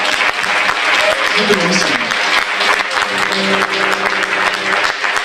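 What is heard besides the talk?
audience applause at book presentation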